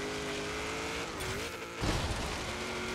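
A 2002 Chevrolet Corvette Z06 in sixth gear on a hill climb, engine droning steadily as its tires scrub sideways, with a sharp burst of tire noise rising after a brief dip in engine tone.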